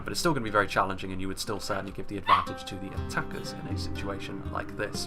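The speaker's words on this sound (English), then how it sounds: "I can only apologise for the dogs yipping in the background" Small dogs yip and whimper in the background of a room, high-pitched bursts scattered throughout while someone talks steadily over them about a Third Age: Total War siege battle.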